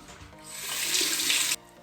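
A bathroom tap runs briefly as the face is rinsed after shaving, a close, steady hiss of flowing water that swells and then cuts off abruptly.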